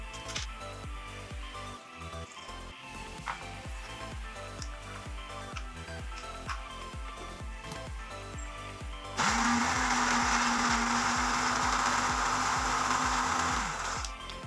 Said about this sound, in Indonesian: lalu saya blender.